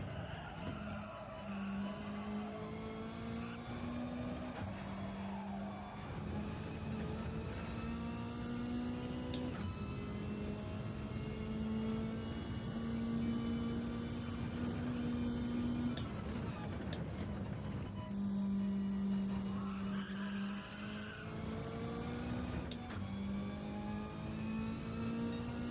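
A Tenza race car in Gran Turismo 7 revs hard through its gears with sustained, loud engine drone, while long tire squeals and skids run almost continuously through the laps.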